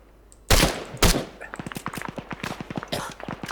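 Rapid gunfire erupts in ArmA 3: two heavy close bursts followed by a run of quick, sharp repeated shots, loud and dense over a faint background.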